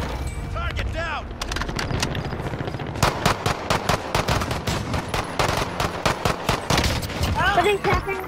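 Rapid gunfire from a Warzone match cracks in loud repeated bursts and single shots, densest in the middle stretch, with chirpy electronic game sounds at the start and the end.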